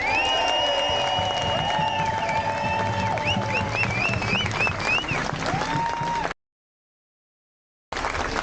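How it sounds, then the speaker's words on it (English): A crowd applauds at an outdoor Peterloo march for democracy in Manchester. The clapping and cheering are steady, with bright whistle-like tones above them, and the sound cuts out abruptly before briefly resuming. "deserve a round of applause"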